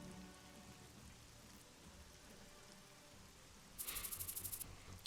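Rain falls steadily and faintly in the video game Troubleshooter, a soft continuous patter, joined near the end by a short burst of rapid clicking.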